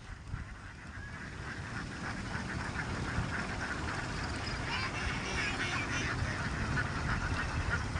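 A flock of egg-laying ducks is herded through a rice field, a dense continuous chorus of quacking from many birds at close to middle distance, with a low engine-like rumble underneath.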